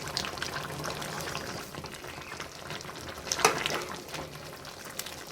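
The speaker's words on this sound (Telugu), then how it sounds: "మసాలా కొంచెం కొత్తిమీర అయితే వేసుకుంటున్నాను మంచిగా కలుపుకుందాం ఒకసారి" A spoon stirs chicken gravy curry with masala and chopped coriander in a pot, giving soft scraping and wet sizzling, with a louder clatter about two-thirds through. No voices.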